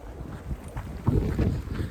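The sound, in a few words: wind outdoors on the trail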